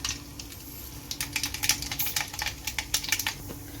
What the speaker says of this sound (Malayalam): ചീൻചട്ടിയിൽ നമ്മൾ നേരത്തെ മീൻ വറുത്ത എണ്ണയുണ്ടല്ലോ ആ എണ്ണ തന്നെയാണ് ഒഴിച്ചിരിക്കുന്നത് അപ്പോൾ നമുക്ക് ഇതിലേക്ക് നമുക്ക് ഒരു രണ്ട് സ്പൂണ് കടുക് ചേർത്ത് കൊടുക്കാം